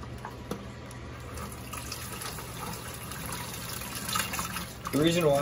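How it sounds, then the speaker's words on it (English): Fish-store water and newly bought fish are poured through a net into a 35-gallon tank, giving a steady watery rush and trickle that swells into a louder splash near the end. "I'm dumping them through a net and the water through the net"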